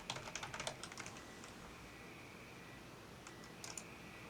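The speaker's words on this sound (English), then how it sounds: "For instance, I can type get available storage percentage," Fingers type a short prompt on a computer keyboard in two quiet bursts of rapid key clicks, with a pause between them. No one speaks.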